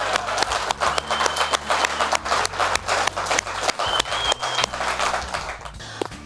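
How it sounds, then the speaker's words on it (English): Outdoor applause at a chapter cookout on a farm, a dense continuous patter of clapping from a gathered crowd, steady and moderately loud for several seconds. "a big round of applause for Marvin."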